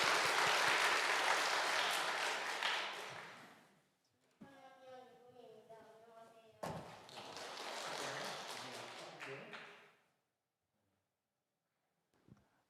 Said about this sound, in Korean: 자, 그럼 한번 우리 경례 박수 한번 쳐주시죠.